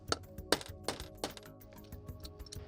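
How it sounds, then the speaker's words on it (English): A roll pin punch is hammered to drive a pin out of a part on a junkyard 460 engine build, giving several sharp metallic taps in an uneven rhythm, quiet and close. "I'm going to use a roll pin punch to drive the pin out from the bottom."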